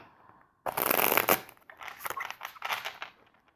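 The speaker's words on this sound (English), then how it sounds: "I think I'm going to do one more shuffle" A deck of tarot cards riffle-shuffled close up, one sharp burst of flicking cards followed by softer shuffling and sliding of the deck.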